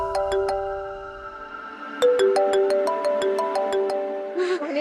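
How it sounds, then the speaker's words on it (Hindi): A phone ringtone plays an incoming-call melody of clear electronic tones, a short burst, a pause, then a longer repeated run, loud and close with no talking over it. "थानेदार साहब बार बार माने को फोन कर रहे हैं।"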